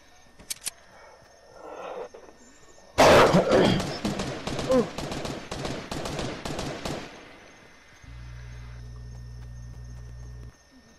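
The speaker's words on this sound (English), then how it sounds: "I know we're getting sniped from now. I hear them." Rapid gunfire in a multiplayer shooter video game: a dense, loud burst of shots and cracks in the middle after a few scattered earlier reports, followed by a steady hum at the end.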